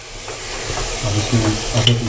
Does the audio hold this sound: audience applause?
no